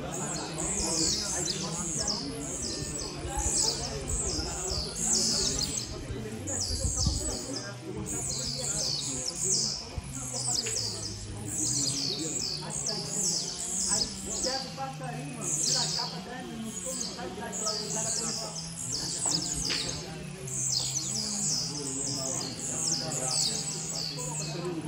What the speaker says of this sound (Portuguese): Vários passarinhos cantando bem.